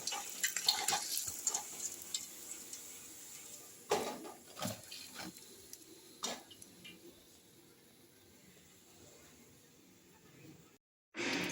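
Malpua, Bengali sweet batter pancakes for Holi, sizzle in hot oil, with a bright hiss strongest at first and then settling to a low simmer. Several sharp utensil clinks and knocks break through, and a short silence falls near the end.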